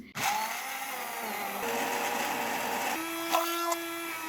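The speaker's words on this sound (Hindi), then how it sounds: "यहाँ पर जो हमारा मिक्सचर था वो अच्छे तरीके से ब्लेंड हो चुका है" An electric blender whirs continuously, blending a hair mask mixture with a steady, close motor drone that shifts pitch partway through as the speed or load changes.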